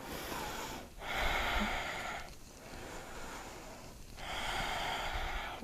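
Slow, deep breaths drawn in and pushed out during the yoga dolphin pose, three long airy exhalations close to the microphone with quiet gaps between.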